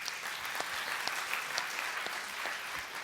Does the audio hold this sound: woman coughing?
no